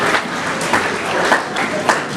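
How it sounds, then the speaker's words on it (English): Audience applauding Army and Air Force veterans at a school event, a steady wash of clapping from many hands through the short stretch, with a few louder bursts and no one speaking. "So let's give them a round of applause."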